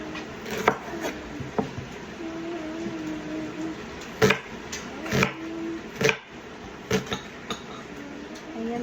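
A knife chops onion on a board for a home raita, with sparse, irregular sharp knocks and a few louder clustered strikes, close and fairly clear over a quiet kitchen background.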